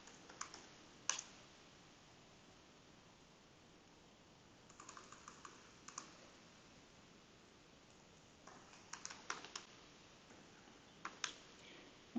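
Quiet computer keyboard typing of a git push command, short scattered clusters of light clicks separated by pauses, close by in a quiet room.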